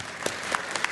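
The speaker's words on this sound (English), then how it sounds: "Please give them a round of applause." Audience applause at a Tri-City Chamber of Commerce event honoring longtime members, a short burst of scattered clapping with a few sharper individual claps standing out, moderately loud in a hall.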